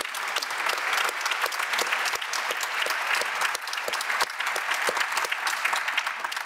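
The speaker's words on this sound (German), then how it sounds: "Applaus" A hall audience at a Bavarian CSR conference panel gives sustained, dense applause after a short startup presentation. The clapping is steady and fairly loud and continues without pause.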